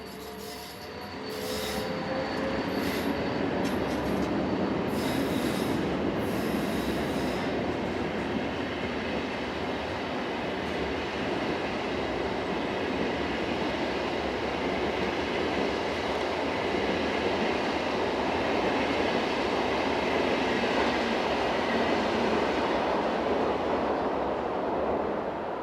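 SBB passenger locomotive 460090 pulls a train out of the station bound for Zurich, a steady broad rumble of wheels on rails with squealing and high-pitched hissing early on, continuous and moderately distant.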